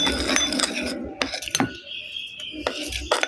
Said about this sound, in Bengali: এখন পেস্ট আর লেবুর রসটা আমি খুব ভালোভাবে এখানে মিশিয়ে নেব